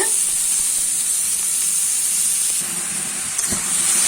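Lentils frying in a pan for a lentil mash give a continuous, even sizzling hiss, close and fairly loud, with faint stirring.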